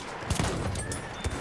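An M97 Sweeper pump shotgun fires in the video game Battlefield 1, with a few sharp, booming blasts spaced unevenly and loud against a busy battlefield background.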